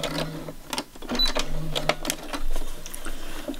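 A sewing machine running a stretch stitch in short bursts of mechanical whirring and clatter, start-and-stop rather than continuous, heard close.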